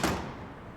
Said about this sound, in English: slamming a door would sound like this